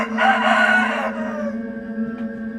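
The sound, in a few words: rooster crowing at dawn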